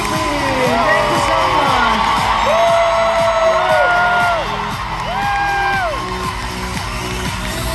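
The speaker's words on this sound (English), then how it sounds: "Please give a big applause to our dance crew." A concert crowd at a world tour show in Washington, DC, cheering for a dance crew, with a loud, continuous wash of whoops, high-pitched screams and shouts filling the whole stretch.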